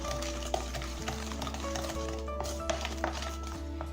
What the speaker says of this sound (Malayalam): നമുക്കിതിനൊന്ന് മിക്സ് ചെയ്തെടുക്കാം.